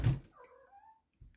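A cat gives a short meow-like cry indoors, a quick rising-falling call right after a soft thump, with a faint knock at the end and no talk over it.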